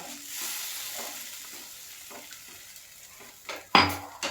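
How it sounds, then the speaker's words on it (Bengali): Masala gravy for ghee katla fish simmers in a pan, a faint, soft bubbling hiss with scattered small pops, then a sudden louder clatter of stirring near the end. "এখন বন্ধুরা গ্রেভিটা ফুটতে শুরু করেছে"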